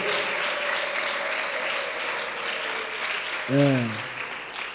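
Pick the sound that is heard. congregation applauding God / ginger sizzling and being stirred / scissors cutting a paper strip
congregation applauding God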